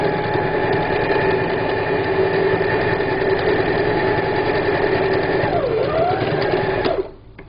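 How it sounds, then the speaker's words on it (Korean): A sewing machine topstitches a thick cover for a low folding table, running at a steady, buzzing whir for several seconds before it abruptly stops near the end. "균형을 잡기 위해서 이쪽 부분도 스테치 박음질을 해줍니다"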